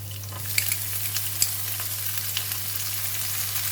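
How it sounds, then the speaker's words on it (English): Yellow onions and vegetables stir-fry in a hot pan for egg fried rice, giving a steady, close sizzle with a few scrapes and clicks of a utensil stirring, and no voices. "We're going to stir fry until the vegetable and onion is cooked."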